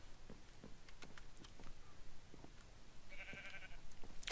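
Sheep bleats from a Minecraft world, several short nasal calls scattered across the moment at close range, with a brief higher tonal game sound near the end.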